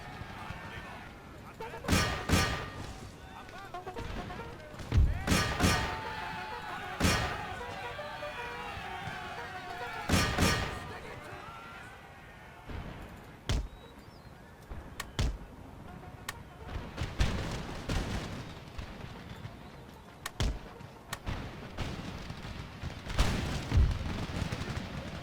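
Musket volleys and artillery booms from an Empire Total War battle with British Guards, repeated sharp cracks and heavy thuds in irregular bursts, some near and loud, others distant, with battle din between.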